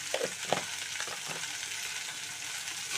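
Ivy gourd pieces with salt and turmeric sizzle gently in a pan, a faint steady frying hiss with a few soft stirring clinks near the start.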